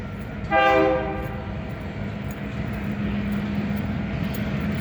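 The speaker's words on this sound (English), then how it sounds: "this is the return of the train" A passing train sounds one short, clear horn blast, and a steady low rumble of wheels and cars continues afterward at moderate distance.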